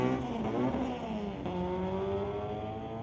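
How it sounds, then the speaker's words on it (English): A 1992 Mazda Miata street-legal race car drives hard at a Friday night street-legal racing event, its engine note climbing through revs in short, loud bursts, close and clear with no talking over it. "Zach Beveridge in the 92 Miata."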